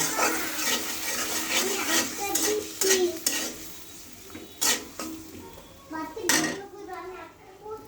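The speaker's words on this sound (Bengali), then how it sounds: "মশলাটা কষিয়ে নেব।" Browned onion with ginger paste, garlic paste and salt is stirred and fried in a pan for white pulao, a continuous sizzle under repeated spatula scrapes and clanks, with faint voices in the background.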